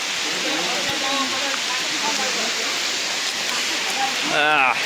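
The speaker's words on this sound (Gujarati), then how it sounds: "ભાઈ વરસાદ જબરજસ્ત છે" Heavy rain pours down steadily on a road during a trip to Girnar, a dense continuous wash of noise with people talking and exclaiming over it.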